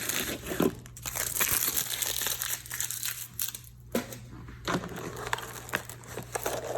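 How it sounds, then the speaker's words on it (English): Packing tape being pulled and peeled off a cardboard mail package box: a close, steady stretch of crinkly, crackling tearing with a few sharper rips along the way. "Let me get this tape out of here."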